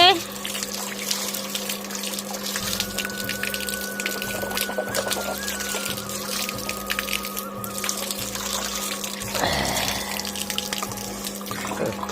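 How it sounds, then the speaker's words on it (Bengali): Tap water runs steadily at a sink during handwashing, a continuous close splashing flow with a brief louder surge near the end; a voice speaks in the background. "হাতটা ধুয়ে নি ভালো করে"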